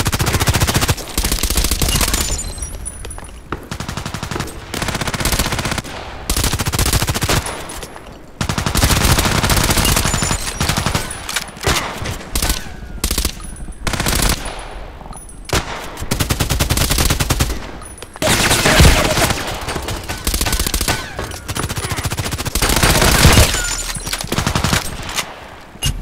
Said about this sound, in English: he's shooting one time, hits me one time, and I'm just shooting all around.